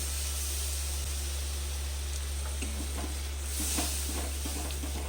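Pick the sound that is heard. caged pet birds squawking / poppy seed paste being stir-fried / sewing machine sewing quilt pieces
poppy seed paste being stir-fried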